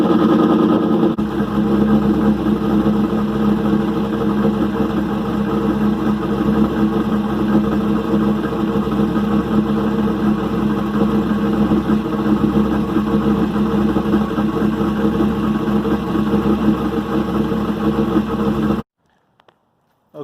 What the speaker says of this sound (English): Give it a quick cold start.